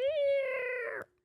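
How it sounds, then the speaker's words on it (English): A cat lets out a single drawn-out, odd-sounding meow, loud and close, rising then sliding down before cutting off abruptly. "That was kind of a crazy cat sound."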